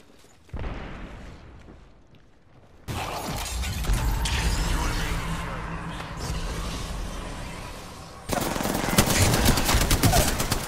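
Gunfire in the battle royale game Apex Legends, rapid automatic bursts and mechanical weapon clatter filling most of the stretch, loud and dense, with a short quieter gap early on and an even louder burst near the end.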